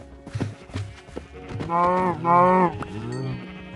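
Sheep bleat on a farm barn, a couple of drawn-out, wavering bleats rising clearly above lower animal shuffling and background noise, fairly close and loud.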